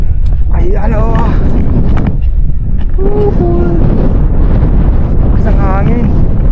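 Heavy wind buffets the microphone in a constant low roar on a mountain summit at Mount Brigino while people talk over it.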